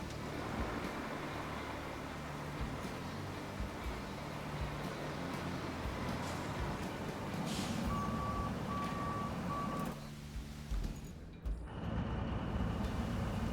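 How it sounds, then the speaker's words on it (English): A truck in the Road Craft video game backs up, sounding a run of evenly spaced reversing beeps over a steady, loud engine rumble. A hiss and a brief lull follow near the end. "So let's pull the big truck up."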